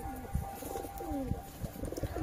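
Domestic pigeons coo in soft, repeated low murmurs, several overlapping calls close by, with faint chirps and a light background hum.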